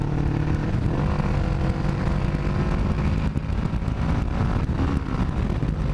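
Kawasaki Ninja motorcycle fitted with new, louder aftermarket mufflers, heard as a continuous loud engine roar while the bike accelerates, with steady wind buffeting over the microphone throughout.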